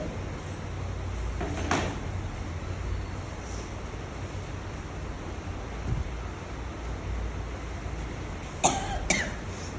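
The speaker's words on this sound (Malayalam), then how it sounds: "നല്ല ചുമയൊക്കെയാണ്." Several sharp coughs from a person in a saree and churidar shop, one early burst and a close pair near the end, over a steady low room hum without speech.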